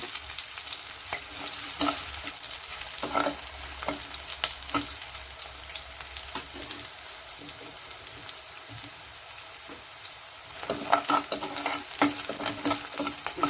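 Onions frying in a pan for tomato chutney, stirred now and then: a steady close sizzle with scraping strokes of the spoon throughout, and no talking.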